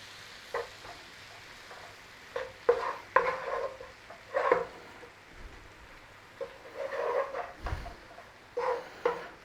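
A flour roux cooks in a pan with a faint, low sizzle, punctuated by short, irregular bursts of stirring and scraping, fairly quiet and close, with no talking.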